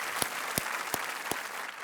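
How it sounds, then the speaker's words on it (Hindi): Studio audience on the quiz show Kaun Banega Crorepati applauds a contestant who has just won four lakh rupees: a steady wash of clapping with a few sharper, evenly spaced claps standing out, no talking. "ताली बज जाए लोकेश सिंह जी के लिए।"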